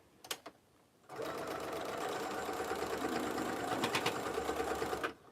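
A home sewing machine runs a basting stitch through fabric for a belt bag, a steady fast whirring rattle for about four seconds after a few faint clicks. It is fairly quiet and there is no speech.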